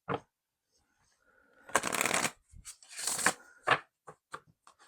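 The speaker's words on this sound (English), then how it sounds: "Let's do 2 more shuffles." Tarot cards being shuffled in several quick riffling bursts, close and fairly quiet, with short pauses and light taps between.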